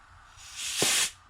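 Short burst of compressed air from an air gun blowing into an ARB RD117 air locker during a rebuild, rising to a strong hiss for about half a second before cutting off.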